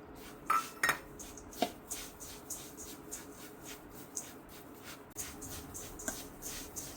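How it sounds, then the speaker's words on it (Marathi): Roasted crushed peanuts and roasted sesame seeds being mixed together in a bowl for til gul ladoo: quiet, scattered clinks and light scraping of a spoon against the bowl, irregular and close, with no talking. "शेंगदाणे भाजलेले कूट आणि हे तीळ भाजलेले त्याला एकत्र करूया."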